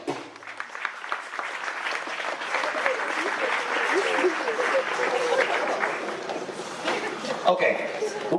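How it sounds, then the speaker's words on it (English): An audience at a hypnotist show applauds for a group of volunteers, a sustained wash of clapping that swells and carries on for several seconds, with a few chuckles and crowd murmurs mixed in. "How about a round of applause for them?"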